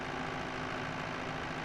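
A tractor engine idles in an Unreal Engine driving game, a low, steady, even rumble running continuously without change.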